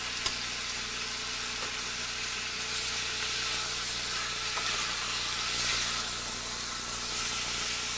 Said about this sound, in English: As soon as this is sauteed just a little, I'll add my white wine